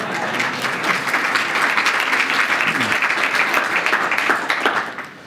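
A conference audience at the NASA Harvest Conference breaks into sustained applause and cheering, a dense, close wash of clapping that fades out at the end, with a voice speaking over it.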